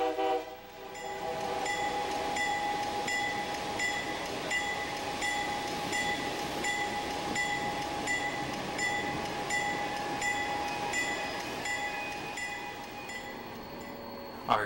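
CN freight train at the Portman marshalling yards in Surrey, BC, a continuous heavy rumble with a sustained horn-like tone held over it for the whole stretch.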